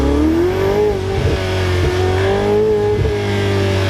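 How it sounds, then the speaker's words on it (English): A Ferrari 488 GTB's twin-turbo engine revs loud and close, its tone rising and falling, with brief puffs and whistles between the pulls. "There's a slight dump valve thing going on there as well, isn't there?"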